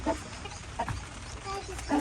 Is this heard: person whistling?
no